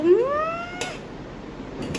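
A single drawn-out cat meow rising then fading, close by, followed by faint clinks of dishes.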